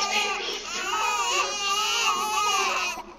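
Babies cry in The Sims video game, a loud, continuous wailing with wavering pitch that runs almost unbroken and stops abruptly at the end.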